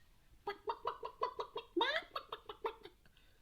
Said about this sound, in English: I make clucking noises.